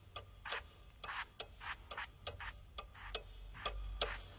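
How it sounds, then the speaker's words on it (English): A clock ticks in a quiet room, sharp even ticks repeating roughly twice a second, faint and close with nothing else around them. "the ticking of the clock seemed as loud as the ringing of church bells"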